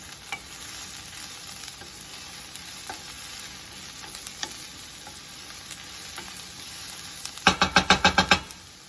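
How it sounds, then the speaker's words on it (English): Celery and onions sauté in a pan with a continuous close sizzle and occasional stirring scrapes, ending in a rapid run of about seven sharp knocks of a utensil against the pan; no one talks. "we're gonna saute these until they're nice and translucent"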